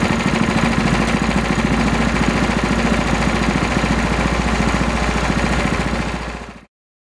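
A Honda GX160 small engine idles steadily during a carburetor speed adjustment, a loud, even low putter that runs for over six seconds and then cuts off abruptly, with no talking.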